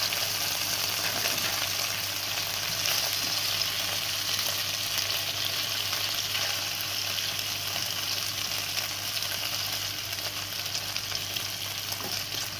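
Pineapple frying in a pan, giving a constant bright sizzle that stays loud and even throughout with no voices.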